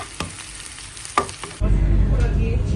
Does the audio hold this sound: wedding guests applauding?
no